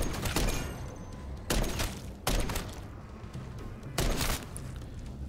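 Heavy gunfire in Modern Warfare Zombies: sustained loud blasting with four stronger bursts spaced a second or two apart, dense and close, with no voices over it.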